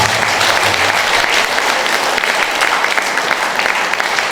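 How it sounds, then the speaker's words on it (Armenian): A crowd claps loudly and continuously at a fourth-grade graduation ceremony at School No. 2 in Armavir, a dense, even wash of applause throughout. "ես խնդրում եմ ծափահարեք"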